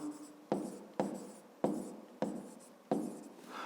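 Pen writing on paper while working a fifth-grade math exercise, five distinct scratchy stroke bursts at a steady rhythm, close and quiet with no voice.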